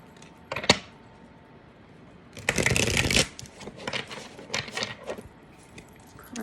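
Love Oracle cards are shuffled by hand in a few separate bursts of quick riffling and slapping, close and fairly quiet, with short pauses between them.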